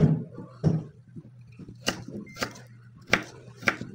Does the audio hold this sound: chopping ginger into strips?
yes